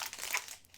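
A foil wrapper on a 2025-26 Upper Deck SP Game Used hockey card pack crinkles as it is torn open, a short, close, crackling rustle that fades out at the end.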